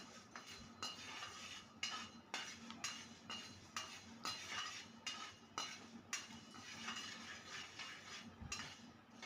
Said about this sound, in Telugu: ఈ ధనియాలు కొంచెం లైట్గా కలర్ చేంజ్ అయ్యే వరకు వేపుకోవాలి.